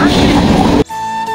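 A train approaching, a loud, rattling rumble for under a second that cuts off abruptly into a quieter, steady tonal hum.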